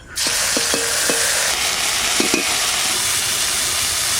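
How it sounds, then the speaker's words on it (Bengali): Loud, steady sizzling of a ground spice paste dropped into hot oil over cumin seeds, a dense hiss with a few faint clinks near the start, no voices. "ওই বাটা মশলাটা তেলের উপর দিয়ে দেবো"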